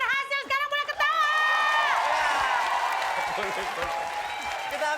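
A studio audience on a TV comedy show breaks into applause and cheering, first under loud excited voices, then a broad, sustained roar of clapping from many people filling the room.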